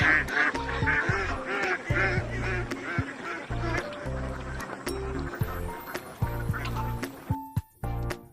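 Domestic ducks on a Philippine farm quacking repeatedly and loudly up close, a dense overlapping chorus of nasal calls that thins out toward the end.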